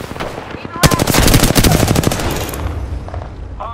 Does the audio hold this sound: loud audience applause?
no